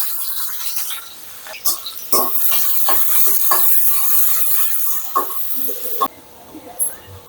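Three dried chillies, garlic cloves and onion hit hot oil one after another for a tempering, giving a loud, close hissing sizzle. Clinks and stirring knocks are heard throughout, and the sizzle drops off sharply near the end.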